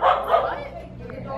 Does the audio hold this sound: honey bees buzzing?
no